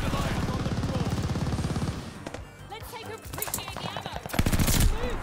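Rapid machine gun fire from a DP27 in a video game hammers out a fast, steady rattle at first, then breaks into scattered shots and ends with more loud bursts. A player's voice talks over part of it.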